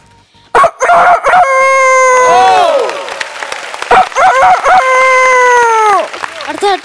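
A performer on a comedy stage show imitates a rooster crowing with his voice, giving two long, loud, drawn-out crows with brief clipped vocal bursts before and between them.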